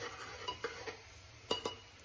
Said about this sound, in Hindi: उसके बाद अनियन को डाल के थोड़ी देर अनियन को और चिली को सौते